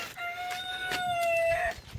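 A rooster in a village shed crows one long, clear drawn-out call lasting over a second, close and fairly loud, with faint fowl noises around it.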